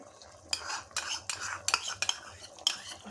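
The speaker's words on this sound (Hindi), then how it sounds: "इसको मिक्स कर लेंगे दही के साथ" A spoon stirs yogurt into frying mutton for pulao in a metal pot, giving a few quiet scraping strokes with sharp clinks about every half second over a faint, low sizzle.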